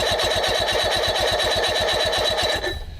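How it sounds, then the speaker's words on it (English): An outboard engine is cranked over without firing, a fast, even, rhythmic chugging of the starter turning it, loud and close, holding steady for a few seconds before winding down at the end. "got to turn the engine over without actually starting it"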